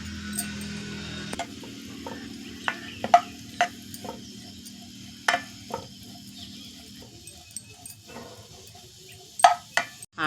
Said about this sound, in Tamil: இப்போ இந்த ப்ரெட்டு துண்டுகளை போட்டு அதில் நம்ம வறுத்து எடுத்துக்குவோம்.